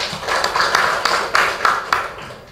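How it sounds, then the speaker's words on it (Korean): An audience at a televised panel discussion gives a brief round of clapping to welcome a city official, fairly close and fading out after a couple of seconds. "좋은 토론 기대가 되는데 박수 한번 맞이해 주시죠."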